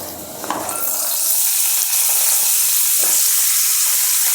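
Broad bean peels fry in a hot pan with a loud, steady sizzle that builds and then holds, with occasional faint stirring scrapes and no talking.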